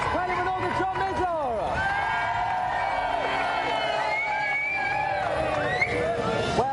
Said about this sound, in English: Round of applause, Kylie Minogue and John Major.